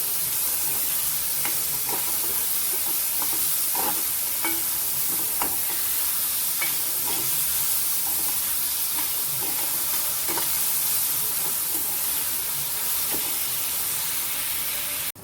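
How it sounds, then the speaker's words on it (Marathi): Stale chapati crumbs mixed with chili paste stir-fried in a pan give a constant close sizzle, punctuated by repeated light scraping clicks of the stirring spoon. "याच्यातच आपण हा मिरचीचा खरडा पण घालून घ्यायचा आहे सगळं एकदम परतायचं मस्त छान हा आपण परतून घेऊया"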